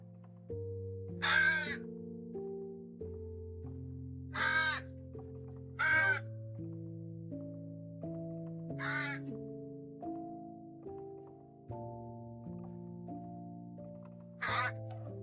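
A crow caws five times in separate bursts, spread out over a steady, low musical background.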